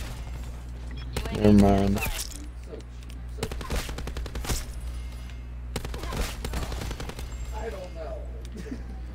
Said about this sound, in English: I'm gonna hit kill chain with a sniper rifle right now.